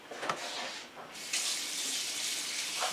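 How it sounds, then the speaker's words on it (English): Water from a kitchen tap runs steadily into a sink while hands and wrists are washed, a close, continuous splashing stream that briefly dips before gushing on more fully. "Wash my hands. I wash my wrist."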